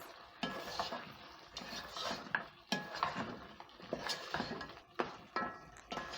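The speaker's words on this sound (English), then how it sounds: "Stir in the meat." Browned beef is stirred back into a stew pot, with a spoon scraping and clanking against the metal in irregular strokes over a faint sizzle.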